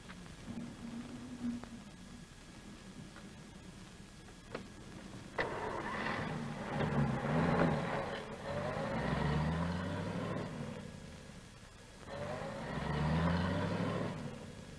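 Old cars in a 1938 western setting start up and pull away, engine rumble swelling in a couple of bursts with revving and gear changes, moderately loud and without talk.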